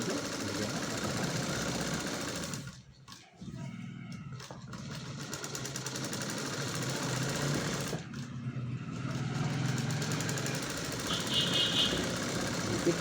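A sewing machine stitches lining onto a blouse sleeve with a steady close mechanical whir. It pauses briefly twice, then runs continuously again.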